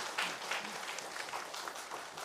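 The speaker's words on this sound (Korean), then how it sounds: "격려의 박수 부탁드립니다" Church congregation applauding during a Sunday worship service, a steady wash of clapping from a moderately distant crowd, fairly quiet throughout.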